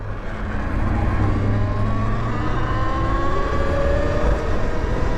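A Talaria electric dirt bike accelerating at full throttle alongside a Sur Ron, with a rising whine over steady rushing wind and road noise, loud and continuous with no talk.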